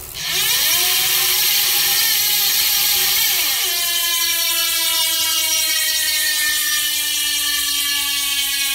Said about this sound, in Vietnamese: em sẽ quay cối lổ cho các bác nghe